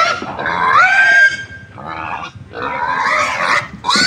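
Pigs squeal loudly and grunt close by as they are loaded for transport, with long harsh screams broken by brief pauses.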